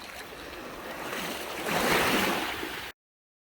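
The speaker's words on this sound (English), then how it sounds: "The tide's rolling back in." Gentle surf of the incoming tide washing onto Duck Pond beach at St. Martin's, New Brunswick, a steady soft hiss of water that swells slightly toward the end before cutting off.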